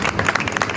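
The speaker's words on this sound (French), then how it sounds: "Vous applaudissez monsieur le recteur" An audience at a French Overseas gastronomy fair applauds in a dense, steady burst of clapping, close and loud, brief and alone.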